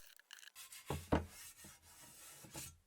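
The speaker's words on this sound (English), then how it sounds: "it seems a bit rough on the surface, so I'm going to have to rub it down and prep it for a final coat" Someone rubs down the dried, rough coating on a Skoda Fabia Mk1 underbody catcher with quiet, irregular scratchy strokes that come in short bursts close to the microphone.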